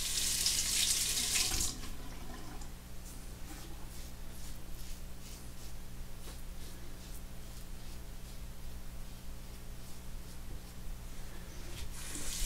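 A tap runs steadily while a razor is rinsed during a shave with Suavecito shaving cream, beginning with a loud close gush for about two seconds and then settling into a quieter continuous flow.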